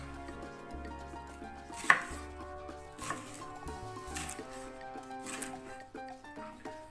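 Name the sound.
chopping red paprika bell pepper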